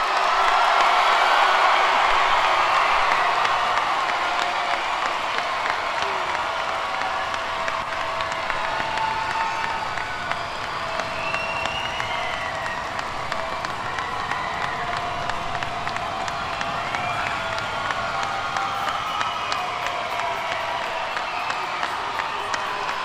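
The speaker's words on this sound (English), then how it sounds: "Please join me in a huge round of applause for these graduates." A large arena crowd at a high school graduation claps and cheers for the graduates, with sustained applause mixed with whoops and shouts that carries on steadily, loudest at the start.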